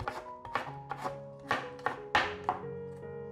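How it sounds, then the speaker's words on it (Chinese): A knife chopping carrot into thin strips on a board, about eight crisp, close cuts at an irregular rhythm with no talk. "把红萝卜切条"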